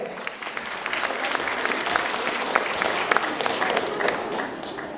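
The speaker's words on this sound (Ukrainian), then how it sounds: "Ваші оплески." Sustained applause from a large audience at a folk music ensemble festival, steady and full throughout without a break.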